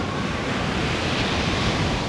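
Stormy ocean surf on a cloudy, very windy day in a Reksio cartoon, a continuous broad roar of crashing waves and wind that stays loud and steady without any voices.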